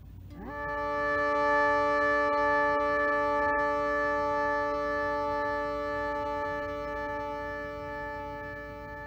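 Synth chord on an Empress ZOIA pitch-tracked patch passing through a slew limiter, swelling up smoothly at the start and then sustaining as a long, steady, bright tone with no talking.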